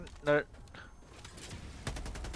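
Gunfire in a shooting video game: a few sharp shots, then a rapid burst of repeated reports near the end, heard under ongoing talk.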